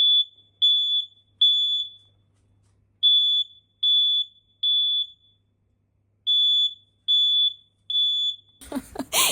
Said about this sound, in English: the fire alarm going off every single time we took a shower